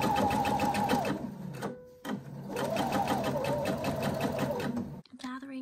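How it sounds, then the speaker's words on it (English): A sewing machine runs in rapid, even bursts while sewing a line of gathering stitches on a skirt made from a Simplicity 9597 pattern, with a brief stop in the middle and a voice speaking over it. "the first line of gathering stitches I'm going to do super close to the edge"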